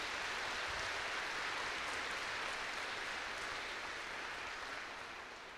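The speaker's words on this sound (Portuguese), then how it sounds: "Pode aplaudir" A church congregation applauds together in a steady, dense wash of clapping that holds throughout and fades slightly at the end.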